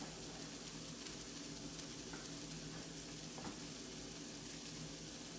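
Meatless lasagna sauce simmers in a pot with a steady, even bubbling sizzle that holds constant throughout, with no talking.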